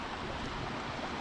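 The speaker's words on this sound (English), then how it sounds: "the way the water flows over this waterfall" Water pours over a small waterfall in a burn in a wild Scottish glen, a steady, dense rushing roar with no pauses and no voices.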